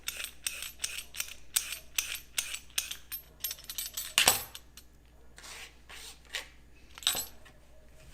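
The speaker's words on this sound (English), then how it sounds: "I'm going to peel my carrots, and then I'm actually going to cut them the way I want them with the peeler" Carrots are peeled with a vegetable peeler in a home kitchen, making a series of quick, crisp scraping strokes in an uneven rhythm, close and fairly quiet, with a couple of sharper clicks.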